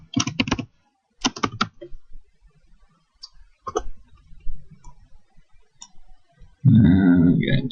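Typing on a computer keyboard while composing an email, coming in quick bursts of close key clicks separated by pauses, followed by a louder burst of noise at the end.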